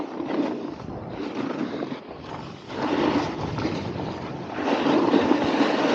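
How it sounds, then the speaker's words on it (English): Skis scrape and chatter over hard, bumpy icy snow in a continuous rough rasp that grows louder toward the end, with no talking. "it's kind of icy here. You might be able to hear it through the mic."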